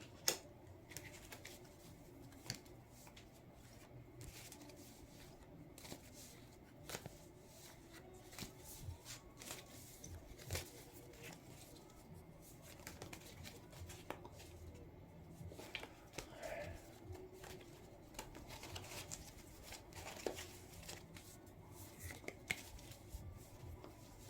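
Cards being shuffled repeatedly, soft riffling and sharp flicks recurring in bursts throughout, fairly quiet and close, with no talking.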